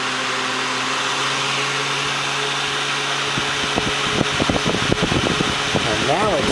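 A Holmes Blizzard electric fan runs at high speed with a steady, loud whooshing hum close by, while a person talks over it in the later part.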